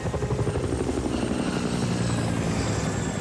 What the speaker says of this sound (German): als er einen großen Helikopter bemerkt